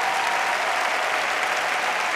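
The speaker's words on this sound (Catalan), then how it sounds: "Un fort aplaudiment, un altre per tots vosaltres." A graduation ceremony audience in a university auditorium applauds the class of 2022 graduates with a steady, dense, loud wash of clapping that holds evenly throughout.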